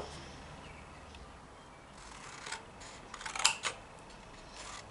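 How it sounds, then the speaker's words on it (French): Scissors snip through cardboard being cut for a box, a few faint crisp cuts clustered near the end over quiet room noise. "Je vais vous montrer comment vous devez découper."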